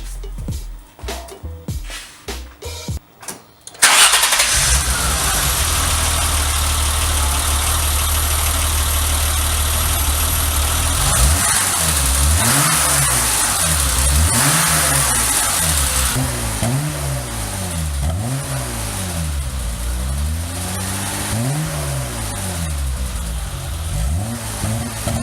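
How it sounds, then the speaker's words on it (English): A BMW E30's engine cranks and fires up, settles into a loud idle, then the exhaust revs up and down repeatedly in a rhythmic series of throttle blips. "First we're going to do an engine sound, startup, and then exhaust revs"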